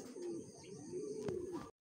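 A racing pigeon coos softly and close by, two drawn-out rolling coos in quiet surroundings before the sound cuts off abruptly.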